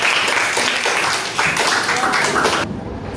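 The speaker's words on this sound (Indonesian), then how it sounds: "Oke, tepuk tangan buat Ananda." Classroom applause for a student during a math lesson, quick rhythmic clapping from a group of students for a few seconds, close and fairly loud, ending abruptly.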